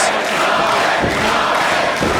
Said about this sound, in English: Jarvis trying to rally the crowd here. And the crowd giving it right back